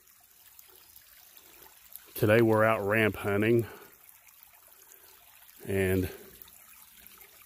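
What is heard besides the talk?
small babbling brook flowing off a mountain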